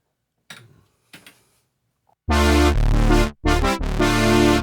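A couple of soft clicks, then loud, rich sustained synthesizer chords in layered double mode with thick layered tones, played in bursts with short gaps between.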